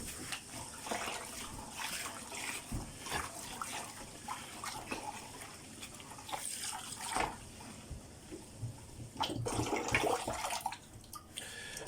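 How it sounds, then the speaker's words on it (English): Rice for chicken biryani rinsed in water, with running and sloshing water, splashes and drips close by, swelling into a louder pouring rush near the end. "I'll basically just rinse out the excess water, as you can see as I'm doing here"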